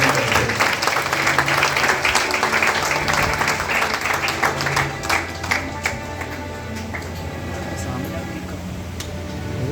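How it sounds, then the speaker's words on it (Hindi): Applause rises from the audience at a parish farewell for a priest in Shahdol, steady crowd clapping that fills the room and then thins toward the end, with a low hum and faint voices underneath. "बार तालियों से स्वागत करते हैं।"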